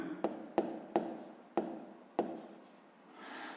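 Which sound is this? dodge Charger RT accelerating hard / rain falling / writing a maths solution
writing a maths solution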